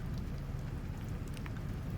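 Steady heavy rain pours down during a rainstorm onto a sidewalk and driveway beside a mulched garden, a dense continuous hiss with scattered nearby drips, and no voices.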